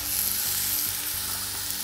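Chicken sizzles in a hot frying pan, a steady bright crackling hiss with faint stirring, close and continuous.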